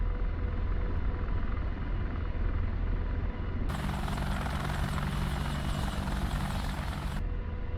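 An AH-64D Apache helicopter taxis in the DCS World flight simulator, giving a loud, continuous rotor and turbine roar with a steady low thrum, and a sharper whine that swells for a few seconds before easing back.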